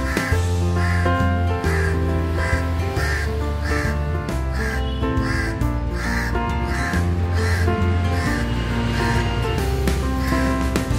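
A crow caws again and again at a steady rhythm: loud, close, harsh calls repeating about once a second, with no talk over them.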